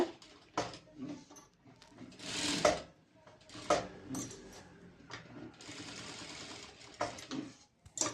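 A sewing machine stitches a sleeve, sounding in short whirring bursts separated by pauses, close and moderately loud, with some handling clatter in between.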